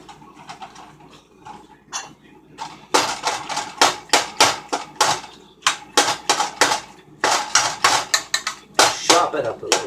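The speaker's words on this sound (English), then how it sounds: "Chop it up a little bit." Rapid knife chopping on a board while making Manwich mac, a run of sharp, closely spaced clicks and taps that speeds into dense bursts, close and fairly loud, with no talking.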